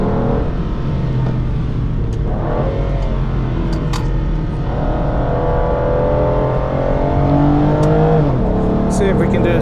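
An Aston Martin DB9 lapping a wet racing circuit, its engine droning steadily and close throughout, with revs rising and falling through corners, while a driver talks over it.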